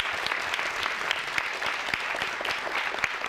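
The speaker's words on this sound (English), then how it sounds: "could you all give them a round of applause?" An audience at a community town hall applauds, a dense, even roar of many hands clapping that holds steady throughout without talking.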